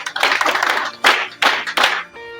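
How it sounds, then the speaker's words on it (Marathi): A few bursts of hand clapping at a rural goat-farming training session for village women and men near Solapur, loud and close, in three short clusters with brief gaps, ending in a steady hum. "अरे बापरे, त्याला टाळ्या झाल्या पाहिजे."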